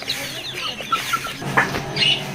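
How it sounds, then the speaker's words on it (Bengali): Soft, scattered clucking from several chickens, with a few sharper calls, over a low ambient background at a poultry farm. "এখানে দেখতে পাচ্ছেন মুরগি রয়েছে"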